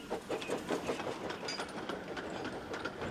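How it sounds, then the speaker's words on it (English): A steam locomotive rolls along with a rhythmic chugging, clattering beat, steady and moderately loud throughout. "And Edward chuffed cheekily away"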